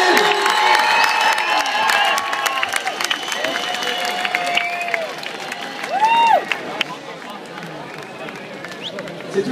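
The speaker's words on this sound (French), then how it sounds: "Allez, on l'applaudit là." A crowd at a Bize Sport X-treme freestyle show applauds and cheers a rider, a steady mass of claps and shouts beneath an excited announcer's voice, with a couple of whistle-like tones rising out of the noise.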